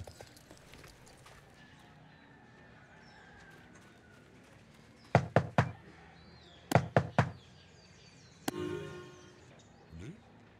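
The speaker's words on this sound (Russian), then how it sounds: "Постучи 3 раза вот таким образом." Secret knock on a door in the Star Stable Online video game, sharp wooden raps in a deliberate rhythm of several quick knocks, a pause, then another group, with a horse snort and hoof sounds around them.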